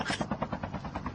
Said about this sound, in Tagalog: Helicopter! Let's go!